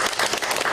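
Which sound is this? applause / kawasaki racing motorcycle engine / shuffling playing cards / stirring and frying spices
applause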